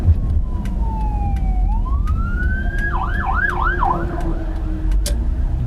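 Fire truck siren wailing on a street as the truck comes up from behind and passes a car pulled over to the side, rising and falling sweeps then a rapid yelp, loud over steady road noise.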